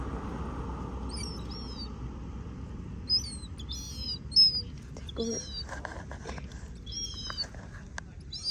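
House sparrows give short, bright chirps in scattered bursts over a steady low outdoor hum, fairly close and distinct, with a few soft thumps and rustles in between.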